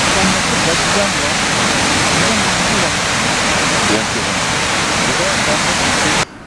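Muradiye Waterfall roars loud and close as a constant, dense rush of falling water that fills the whole moment before it cuts off abruptly at the end.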